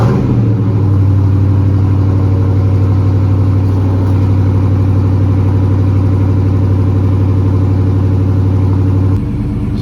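A Dodge Challenger with its factory bolt-on exhaust runs loud and close, a deep steady engine drone with a slight rev lift near the start, holding evenly before cutting off abruptly near the end.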